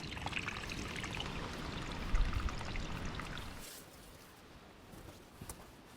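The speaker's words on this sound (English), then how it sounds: "Each step comes with the sound of trickling runoff weaving through rocks and roots." Snowmelt runoff trickles and splashes over rocks and roots on a mountain trail where ice still clings in shaded spots, a steady close wash that quiets partway through, with soft footsteps mixed in.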